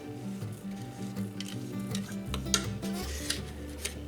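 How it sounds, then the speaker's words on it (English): Oats are stirred into a pot for cinnamon raisin oatmeal, a spoon scraping and clinking against the metal in quiet irregular taps and swishes, close and faint. "Stir in the oats real quick."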